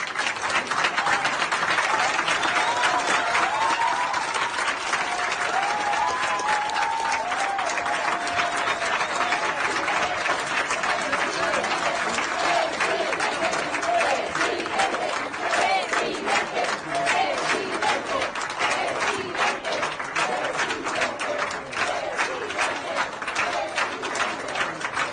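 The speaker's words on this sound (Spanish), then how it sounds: "Mire cómo lo recibieron a Alberto Fernández, con una ovación." Deputies of the Spanish parliament give a long, loud ovation, with sustained dense clapping and crowd noise mixed with shouting throughout.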